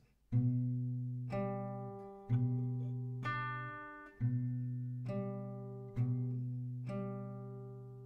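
Acoustic guitar picked in a steady fingerpicking pattern, each chord struck and left ringing before the next, about eight plucked strokes, clear and close.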